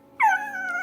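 A dog lets out a single short, high-pitched whine that rises sharply, then trails off into a thinner, sustained whimper, close and clear with no one talking.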